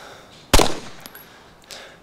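A single sharp gunshot fired at a zombie in the video game DayZ, loud and abrupt with a short decaying tail, followed by faint small clicks.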